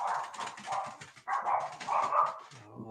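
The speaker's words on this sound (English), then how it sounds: "there go our vicious guard dogs" Guard dogs barking at a distance, a rapid series of repeated barks over about three seconds with no talk.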